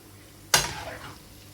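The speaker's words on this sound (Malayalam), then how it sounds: "ഒരു 5 മിനിറ്റ് നേരം ഇതിലിട്ടിട്ട് വഴറ്റിയെടുക്കണം" Mixed vegetables are sautéed in a pan for a North Indian style veg curry, with a single close scrape and sizzle when they are stirred, then a fading hiss, and no talk.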